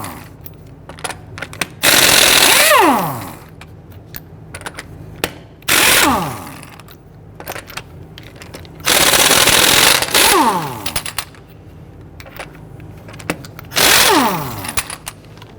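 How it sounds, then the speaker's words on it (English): A ratchet with a 19mm socket loosens the lug nuts on a Ford Taurus rear wheel, with four loud, drawn-out ratcheting runs separated by quiet pauses. "Using a 19mm socket, loosen and remove the lug nuts."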